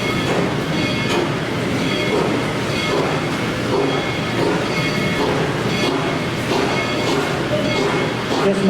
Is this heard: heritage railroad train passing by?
yes